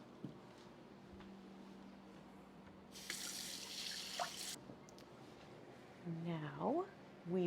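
Carrots scrubbed under a running kitchen tap, a faint trickle followed by a brief louder burst of water from the faucet, with a voice speaking near the end.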